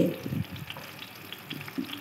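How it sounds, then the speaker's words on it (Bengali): Bitter gourd pieces coated in salt, turmeric and chili powder frying in oil in a wok, a faint soft sizzle with a few brief crackling bursts and stirring scrapes. "তো নেড়ে নেড়ে আমি ভালো করে উচ্ছেগুলো আগেই একটু ভেজে নেব।"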